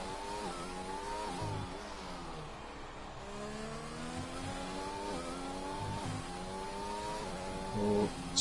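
Race car engines in a racing video game at a Mexican Grand Prix whine through rising gear sweeps and shifts, passing steadily at moderate volume with brief tire noise near the end.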